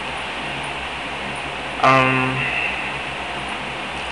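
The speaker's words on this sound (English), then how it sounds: "That noise you hear in the background, if you can hear it, is my fan" A steady broadband whoosh of a fan runs throughout, with a brief voiced sound partway through.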